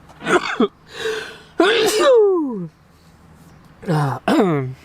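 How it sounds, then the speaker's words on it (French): A sharp sneeze burst stands out among voiced sounds, followed by a pause and another short exhalation; close and fairly loud. "Ah, pardon, je vais éternuer."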